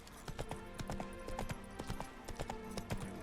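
Horse hooves clip-clop at a steady walking rhythm in The Witcher 3, with a dense run of hoofbeats over a continuous musical background.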